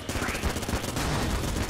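Rapid, continuous bursts from a Vulcan cannon in the video game Enter the Gungeon form a dense, even rattle of gunfire that carries on without a break through the short stretch.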